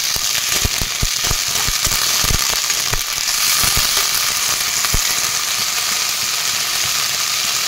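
Steady, loud sizzling and crackling of peas and chickpeas frying in a pan, with occasional sharper pops, and no talking.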